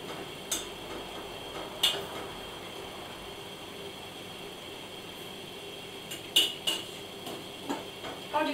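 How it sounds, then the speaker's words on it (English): A teaspoon clinks against a bowl or pot while soup is tasted, a few sharp metallic ticks spread over a quiet background. "I would like to taste with just a teaspoon."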